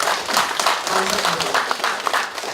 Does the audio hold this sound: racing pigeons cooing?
no